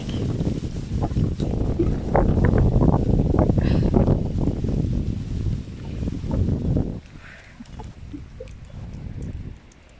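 Strong gusts during a 40 mph wind advisory, heavy rumbling wind buffeting the microphone for several seconds, then easing to a quieter, lighter blow with scattered faint knocks.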